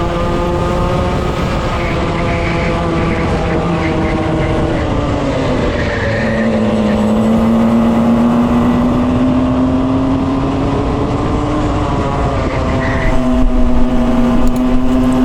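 Junior club karts drone down the back straight at Rissington, a steady high engine whine with overlapping karts close together, pitch dipping then rising as they run in slipstream, loud and continuous without talk.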